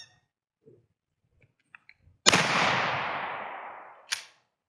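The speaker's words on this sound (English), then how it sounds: "All right, so the Mossberg 500 first, we're gonna go with the birdshot." A Mossberg 500 12 gauge shotgun fires a single load of birdshot at a cinderblock, one sharp loud blast that rings off into a long decaying echo, followed by a brief clack.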